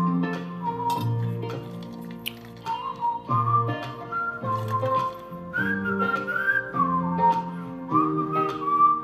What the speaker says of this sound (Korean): 이 휘파람은 내가 안 불렀어